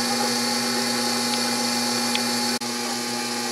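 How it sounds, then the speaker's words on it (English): A Walker Turner drill press with a DC motor turns a 1-inch bit slowly into steel, a steady close electric whine and hum with faint cutting chatter and one brief dropout. "This is a 1-inch drill bit, drilling into steel and getting it at a fairly slow speed."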